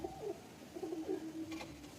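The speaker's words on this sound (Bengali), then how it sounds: "এই হচ্ছে পায়রা" Pigeon cooing from a male bird in a home loft: a few soft, low coos in a short run, fairly close and clear, with no talking over them.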